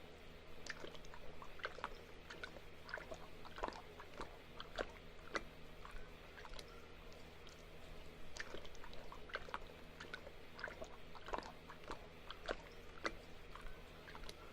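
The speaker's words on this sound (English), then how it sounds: "Let the pouring commence." 2% milk is poured over Nutter Butter cereal in a bowl, a quiet, steady trickle broken by small crisp ticks and splashes as the pieces shift.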